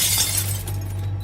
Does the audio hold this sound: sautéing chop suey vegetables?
no